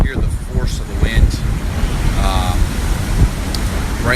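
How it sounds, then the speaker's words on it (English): Strong hurricane wind from Hurricane Irma in Miami roars steadily in gusts, with broadband buffeting noise close to the microphone and faint voices under it. "You can really hear the force of the wind."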